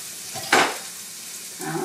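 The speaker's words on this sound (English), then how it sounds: "I'm going to shut this off and give it a stir because I can smell it getting too hot over here." A hot pan of shepherd's pie filling gets a quick stir: one sharp scraping sizzle burst, then a soft steady frying hiss and a fainter second sizzle near the end.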